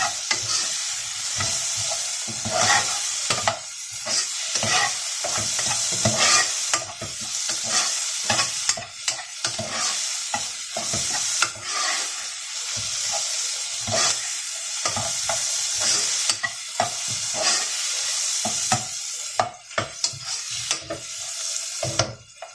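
Tomatoes sautéing in a pan of browned aromatics for pork ribs with mung beans: steady oil sizzle broken by repeated scraping and stirring strokes of a utensil against the pan, close and fairly loud.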